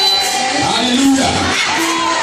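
A church congregation cheers and shouts praise to Jesus, a loud dense crowd roar with high voices rising and falling throughout.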